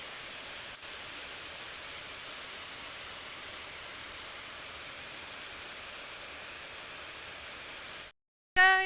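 Light rain falling steadily in a village in Gohpur, a continuous soft hiss of drops on surfaces that cuts off abruptly near the end.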